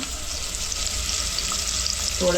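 Asafoetida dropped into hot oil on a low flame, giving a steady, close frying sizzle that lasts throughout, with a faint clink near the end.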